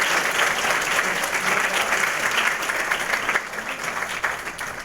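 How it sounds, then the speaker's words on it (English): A crowd at an award luncheon applauds former honorees, with broad, even clapping from many people that holds strong throughout and dips a little near the close. "How about a round of applause for all of our former."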